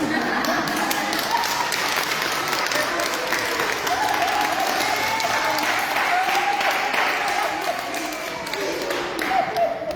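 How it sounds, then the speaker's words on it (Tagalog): Congregation at a church service applauding the cooks, a dense, steady wash of many hands clapping at once, sustained for several seconds with some voices mixed in. "Palakpakan naman natin mga taga-luto."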